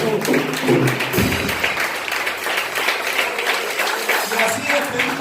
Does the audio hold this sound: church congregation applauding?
yes